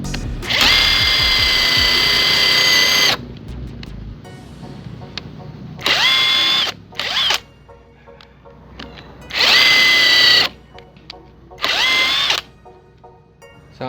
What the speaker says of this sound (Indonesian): saya akan coba bor kayu ini